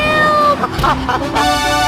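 A cat meows loudly twice in a cartoonish radio ad inside GTA III, a long drawn-out yowl followed by shorter mews, close and clear against faint background music.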